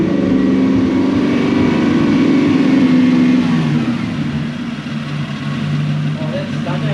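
A Toyota Celsior (Lexus LS400) V8 engine running, with its throttle blipped and then settling to a steady idle; it is fitted with a faulty airflow meter. The engine is heard up close and loud throughout.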